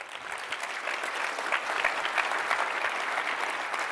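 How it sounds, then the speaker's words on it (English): An audience at a tech talk gives a speaker a round of applause. The clapping is dense, steady and moderately loud, and it runs for the whole few seconds without any voices. "if you please give him a round of applause"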